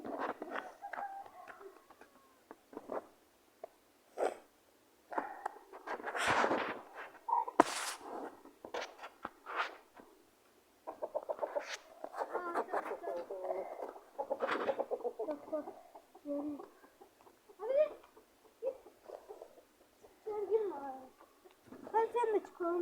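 Roosters and chickens clucking and squawking nearby, with people talking over and between the bird calls throughout.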